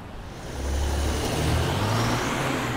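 A car driving on a highway, with a steady engine and tire rumble that swells as the vehicle speeds up, plus a low droning hum and road noise.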